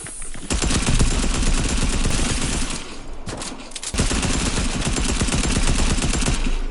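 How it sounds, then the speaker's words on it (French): Gunfire in a video game comes in dense, loud, continuous automatic bursts with a brief lull before the shooting resumes. "Mais qui c'est qui me tire dessus?"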